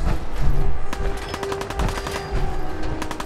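Automatic gunfire rattles in a Fallout 4 battle as a steady stream of close, sharp shots over a low rumble of game background.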